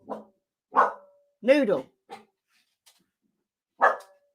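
Several dogs bark in short, separate bursts, some fairly loud and near, with a brief spoken word between the barks.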